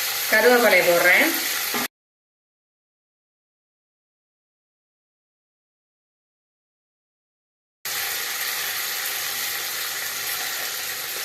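Curry leaves hit hot oil already holding chopped green chilies and ginger-garlic paste, cooking for a vegetable bath. A brief voice comes first, then a silent gap, then a steady, close sizzle runs to the end.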